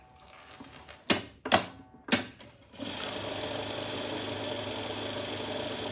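A sewing machine quilts patchwork fabric for a small zippered pouch: a few sharp clicks and handling knocks, then the needle settles into a steady, continuous hum of close stitching.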